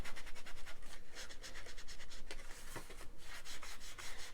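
Paper edges being inked on a Dollar Tree note pad craft project, a steady run of soft, close rhythmic rubbing strokes, evenly paced and alone without talk.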